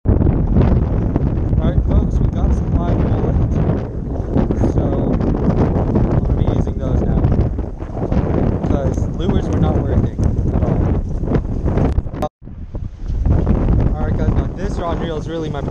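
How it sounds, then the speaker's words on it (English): Strong wind buffeting a microphone outdoors over rough water near Rockport, Texas, a constant roaring rumble with gusty fluctuations and a brief dropout near the end. "it is a little rough out here, guys. A little bit windy."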